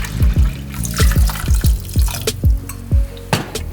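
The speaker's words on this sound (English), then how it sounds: "And then I pop them in the pot and add some water." Water poured into a pot of soaked, rinsed oats lands in a string of about nine distinct plopping, gurgling splashes at an uneven rhythm, close and clear with no talking.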